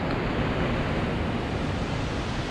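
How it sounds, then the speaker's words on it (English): Churning river water below West Point Dam on the Chattahoochee River roars as a steady, loud, dense rush with no breaks and no voices. "look at that water down there, bubbling up"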